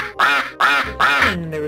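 Cartoonish duck quacks played from a soundboard in Garry's Mod DarkRP: three loud, close quacks in a steady rhythm, then a drawn-out fourth, with no other sound.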